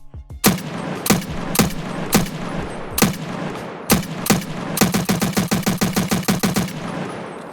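A budget gun in Escape from Tarkov fires loud, close single taps at an uneven pace, then breaks into a rapid sustained spray of evenly spaced shots, with no talking.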